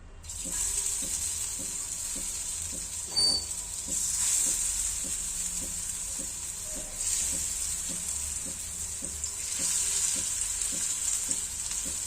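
Aluvadi slices shallow-fry in oil in a hot pan until crisp, giving a continuous hiss with a regular run of light ticking clicks throughout.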